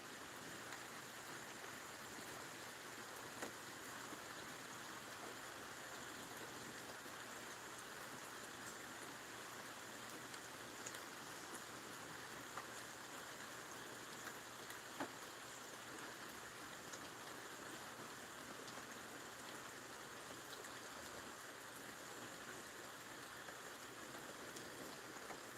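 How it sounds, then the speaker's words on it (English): Steady rain falls on Bull Shoals Lake, a soft, even wash of patter and hiss that holds unbroken and fairly faint throughout, with no voices. "Boy, that rain's peaceful today."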